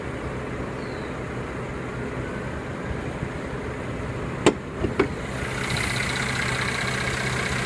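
A 2014 Mercedes-Benz C350 with a 3.5-liter direct-injection V6 idles under an open hood, a steady low engine hum broken by a few sharp clicks or knocks near the end.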